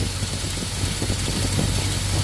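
A carbureted engine with a Holley carburetor idles close by in a loud, low, continuous rumble that wavers slightly and unevenly, with no voices.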